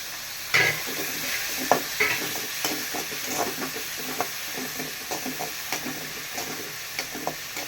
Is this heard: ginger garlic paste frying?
yes